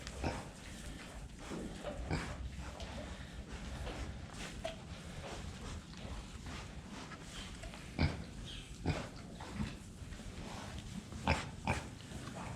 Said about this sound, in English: Oh, I hear Otis eating